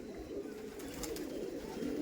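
A flock of Giribaz pigeons on a pigeon house roof coos in a steady low chorus, with a brief flutter of wings near the middle.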